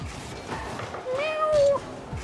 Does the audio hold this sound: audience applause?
no